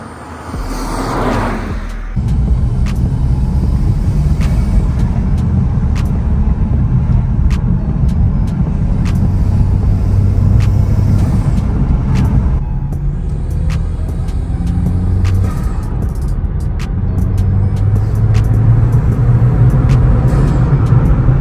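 A Lexus IS200T fitted with an Injen cold air intake drives along, its engine and road noise a loud, steady rumble from inside the cabin after a brief quieter start, with small clicks over the drone.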